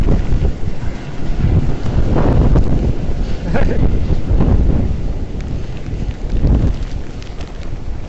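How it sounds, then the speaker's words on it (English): Strong typhoon wind gusts buffet the microphone at a Hong Kong harbour pier during Typhoon Hato, loud roaring surges rising and falling in waves across the whole stretch, with water sloshing underneath. "Wind just came out of nowhere there."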